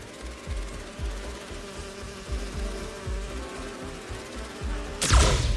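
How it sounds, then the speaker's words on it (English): A swarm of bees buzzes in the Marvel's Spider-Man 2 video game, a rough droning hum that pulses in quick repeated waves before a sudden loud burst cuts in at the end. "You're not gonna mess with my bees."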